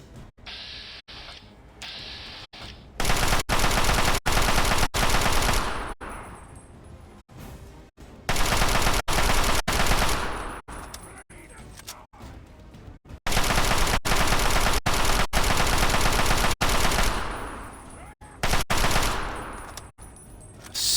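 Bursts of automatic gunfire from enemies in Fallout 3 rattle loudly in long sustained volleys separated by short pauses, harsh and close, with no talking.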